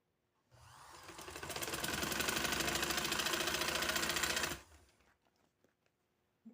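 A sewing machine stitches a seam on a trouser, running in one steady loud burst of about four seconds with a dense whirring motor rattle, then stopping, followed by faint handling clicks.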